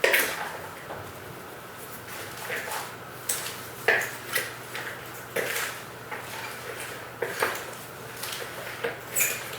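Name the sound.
mixing a salad of lettuce, tomato, onion, cucumber, carrots, cheese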